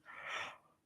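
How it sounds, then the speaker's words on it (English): A person's single drawn-out yawn, a breathy rising and falling exhale lasting under a second, close and fairly quiet with no talk. "Sudden yawn came over me."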